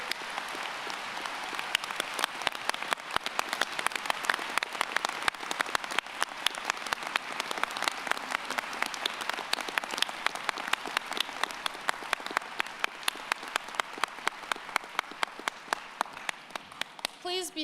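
Applause at a high school graduation ceremony honoring long-serving school employees, a dense, sustained crowd clapping that fills the hall steadily and tapers slightly toward the end.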